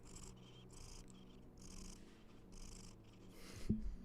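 A cat purrs close by, a soft, low rumbling sound that pulses in a steady rhythm of inhale and exhale cycles, faint and alone.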